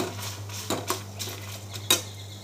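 Fried dried red chillies are dropped into a mixie jar, producing a few light, separate clinks and rattles over a low steady hum, close by and fairly quiet.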